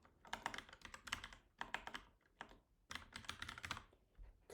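Rapid typing on a computer keyboard while setting up a new Java programming project, dense bursts of close key clicks in several runs with brief pauses between them, no talking.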